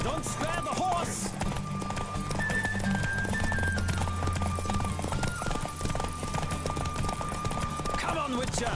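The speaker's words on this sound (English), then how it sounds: "Don't spare the horse!" Rhythmic hoofbeats of a galloping horse pound steadily under a continuous mix of music and background noise, with a brief whinny near the start.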